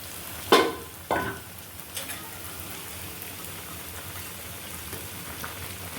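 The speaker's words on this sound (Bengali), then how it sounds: "এখন দিয়ে দিব মাছগুলো" Fish dropped into a pan of tomato curry, with two sharp sizzling bursts as the pieces hit the hot oil, then a steady, quieter frying crackle that continues alone.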